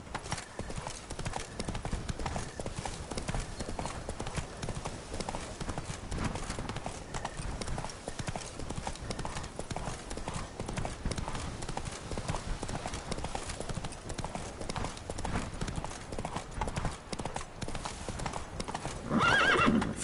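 Roach, the horse in The Witcher 3, gallops with rapid rhythmic hoofbeats that run steadily for about twenty seconds, with a neigh and rising intensity near the end.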